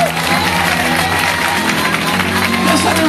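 A church congregation clapping and cheering together, a dense, loud crowd sound with a low musical drone underneath and some voices mixed in.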